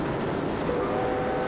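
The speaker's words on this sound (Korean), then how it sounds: "난생 처음 기차에 몸을 실었던 리진" A train runs along a railway in France with a steady rumbling drone of wheels and cars, close and continuous with no other sounds.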